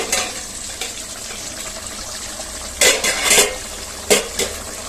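A metal pot lid clatters and scrapes as it lifts off a pot of one-pot biryani, with a few sharp metallic knocks over a soft background simmer and hiss.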